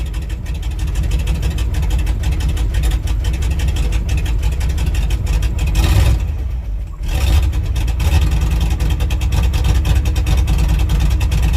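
An International truck engine with a freshly rebuilt carburetor needing minor adjustment idles steadily and loudly, a low continuous rumble with a brief dip in the middle.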